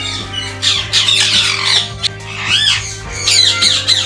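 Ringneck parrots in breeding season squawk loudly and repeatedly, harsh shrill calls overlapping almost without pause throughout.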